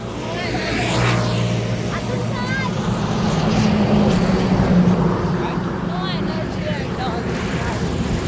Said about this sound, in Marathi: आवाज जोरात आहे गाड्यांचा आवाज